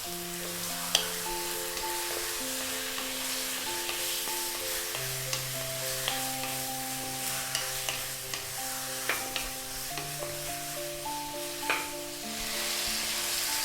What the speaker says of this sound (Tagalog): ipa-pan fry ko po yung ating chicken